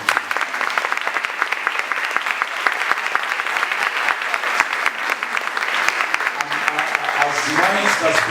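Sustained audience applause at a speakers' event, steady dense clapping throughout, with some tonal sound and voices emerging near the end.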